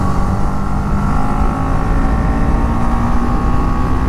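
A BMW G310GS motorcycle riding through the city, a continuous loud engine drone with road and wind noise, a steady ride at constant speed without pauses.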